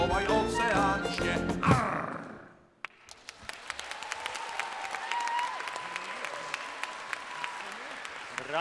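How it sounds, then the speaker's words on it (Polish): A concert audience breaks into applause at the end of a youth orchestra's final concert in Katowice: music fades out, then dense, sustained clapping fills the hall at moderate loudness, with scattered cheers. "Brawa, bardzo dziękujemy."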